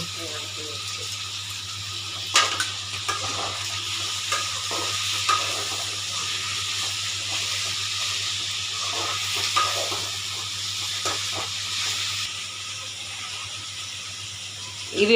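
Steady sizzling hiss of vermicelli kichadi ingredients sautéing with salt in a pan, with occasional scrapes and stirring clinks, continuous throughout with quiet talk now and then.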